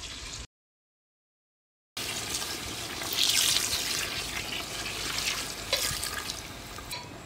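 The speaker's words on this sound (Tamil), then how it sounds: "நம்ம கொஞ்சம் மட்டன் வேகிற அளவுக்கு தேவையான தண்ணியை ஊற்றிக்கோ." Water poured from a vessel into a pot of mutton cooked in oil for seeraga samba mutton biryani, a steady splashing pour that starts after a brief silence and carries on close and fairly loud.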